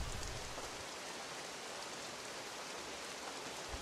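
Steady rain falls in a video game, a soft, even hiss of drops that stays constant and faint without any other clear sounds.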